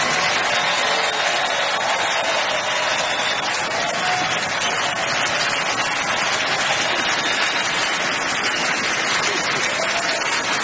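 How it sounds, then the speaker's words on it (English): A large awards-ceremony audience at the Oscars applauds in a sustained, loud, even wash of clapping that fills the whole stretch without pause. "Everybody, please join me in giving Meryl Streep a totally undeserved round of applause"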